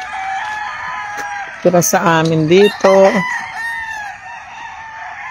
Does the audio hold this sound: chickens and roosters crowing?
yes